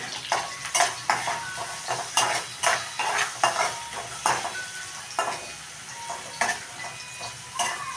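Onions frying in a pan for carrot fried rice, with steady sizzling broken by repeated clinks and scrapes of a spatula stirring against the pan, close and fairly loud throughout.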